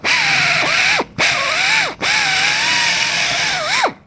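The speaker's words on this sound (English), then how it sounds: "the unibit because it's a very quick way of taking a small hole and turning it into a reasonably big hole" A unibit step drill bores into a metal chassis panel, whining loudly with pitch sweeps as the bit climbs through its steps, broken by three brief pauses where the drill stops and restarts.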